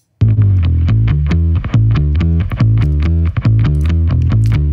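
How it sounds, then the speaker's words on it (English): A thick, gritty bass riff distorted through a tape machine, played in a steady rhythm, saturated and loud with a fuzzy, compressed edge. "it goes into a tape machine, adding more grit and distortion"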